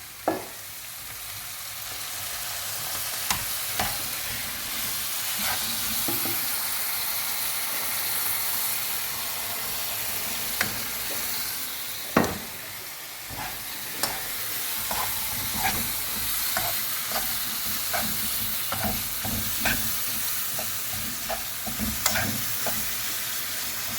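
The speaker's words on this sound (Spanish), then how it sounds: "lo que queríamos era saltear nuestros aliños con nuestro pollo, agregar nuestro caldo" Chicken and seasonings sauté with added broth in a pan, giving a loud, constant sizzling hiss with steam and scattered pops and stirring scrapes, no voices.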